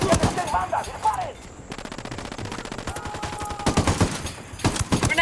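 Rapid automatic gunfire and scattered shots in a first-person shooter firefight, with loud bursts throughout and shouted voices mixed in.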